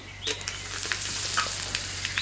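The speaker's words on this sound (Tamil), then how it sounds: "இந்த அடுப்புல வந்துட்டு ரசம் தாளிக்கிறோம்" Spices tempering for rasam in a pan on a home stove, a close, steady sizzle with sharp crackles and spatters and a faint low hum underneath.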